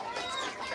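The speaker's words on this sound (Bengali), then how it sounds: "এটা আমার খামারের নতুন মুরগি" Newly bought farm hens, purchased at a market and kept in a new cage, cluck in a short, close burst of several overlapping calls.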